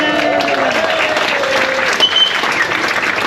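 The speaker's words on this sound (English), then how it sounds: "You see, it's your good applause." Cruise ship dinner guests applaud the captain on board the Royal Clipper, a broad wash of clapping from a dining crowd, with a faint tonal hum and some murmured voices mixed in.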